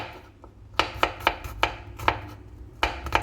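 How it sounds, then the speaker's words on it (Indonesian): Garlic cloves chopped with a knife on a cutting board, a series of about ten crisp, sharp knocks in uneven rhythm, close and clear with a quiet room behind and no speech. "Selanjutnya kita potong-potong bawang putih."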